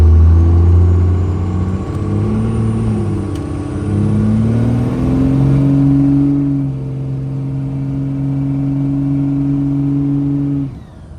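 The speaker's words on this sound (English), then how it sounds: "we're gonna make a big sweeping left turn" A Dodge car with an automatic transmission drives through a big sweeping left turn, its engine droning steadily and shifting pitch as it carries through the bend, close and alone without talk.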